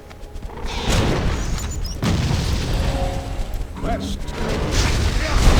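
Embermage firestorm skill in Torchlight 2, a dense run of booming fiery explosions and mechanical clatter that builds and stays loud, with a brief spoken word over it.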